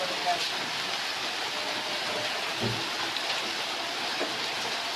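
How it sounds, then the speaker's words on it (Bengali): Steady rain falls outdoors in a village setting, a continuous even patter that holds loud throughout with no breaks, and faint voices can be made out beneath it. "বৃষ্টি ভিজো না, উঠো।"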